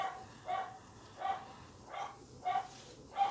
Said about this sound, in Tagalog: May ingay po yung aso namin kasi may dumaan.